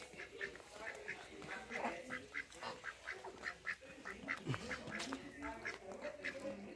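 Repeated honking calls from a flock of geese, rhythmic and fairly close, overlapping with some background chatter.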